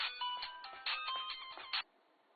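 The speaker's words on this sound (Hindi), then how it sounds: "तुम्हारा फोन बज रहा है।" A phone ringtone trills in a short bright electronic melody, several rising bursts repeating over about two seconds before cutting off, fairly close and clear with no talk.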